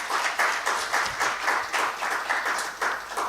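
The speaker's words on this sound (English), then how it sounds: "A clap for our panel." Audience applause for a panel at a World Radio Day event, a crowd clapping in steady rhythmic bursts, close and fairly loud, without any talk.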